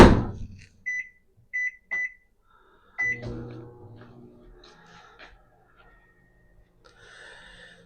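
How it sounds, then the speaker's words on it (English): A microwave oven heating noodles beeps several times as it is set, then starts up with a low steady hum and rattle that continues quietly, with faint kitchen handling sounds over it. "go ahead and put that in the microwave for about 4 minutes"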